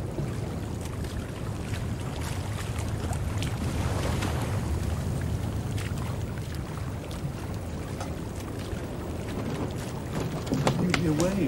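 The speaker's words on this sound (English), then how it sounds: "Waves breaking up on the shore." Rough surf and waves breaking on a shore during a storm at sea, heard from a sailing ship as a steady, dense roar with wind buffeting the microphone throughout.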